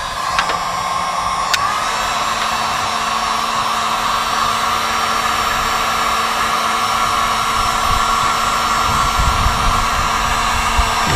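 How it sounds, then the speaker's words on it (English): A heat gun blows steadily while shrinking heat-shrink tubing onto wires, a constant whooshing fan roar with a high whine that starts after a couple of clicks and holds close and loud throughout. "So we'll just use the heat gun quickly."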